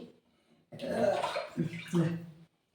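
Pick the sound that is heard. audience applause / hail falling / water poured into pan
water poured into pan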